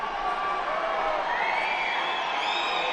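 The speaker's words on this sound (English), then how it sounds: "there's a bit of disappointment from the crowd as that is downgraded to Yuko" A judo arena crowd gives a sustained, loud collective groan of disappointment, a dense wash of many voices that swells slightly toward the end.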